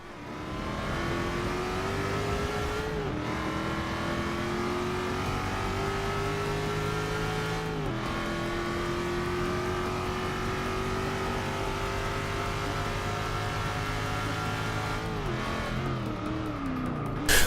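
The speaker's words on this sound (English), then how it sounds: "a naturally aspirated engine, unless it's a Ferrari, usually has a low growling noise that rattles the bones." Marussia B2 sports car with a naturally aspirated 3.5 liter V6, revving and pulling through gears with steady engine drone, a few shifts marked by brief dips and rises in pitch, heard up close.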